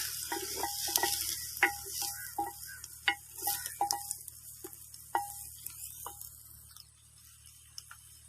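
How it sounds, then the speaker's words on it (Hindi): Chopped medium-sized capsicum pieces frying and stirred in a pan for chicken jalfrezi, giving a steady close sizzle broken by repeated sharp scraping and clinking strokes of the spoon. "अब हम इसमें कटी हुई शिमला ऐड करेंगे, मीडियम साइज़ के कटे हुए पीस। बिस्मिल्लाह, अच्छे तरीके से हिला लेंगे।"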